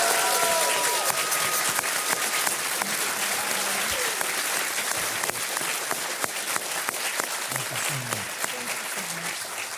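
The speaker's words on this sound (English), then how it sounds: "Can we please get a round of applause for Debbie" A crowd at a retro gaming expo panel in Portland applauds the guests, sustained dense clapping that slowly thins out, with scattered voices and brief speech beneath.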